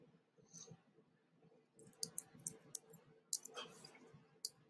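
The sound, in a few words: clicking calculator buttons to select CDF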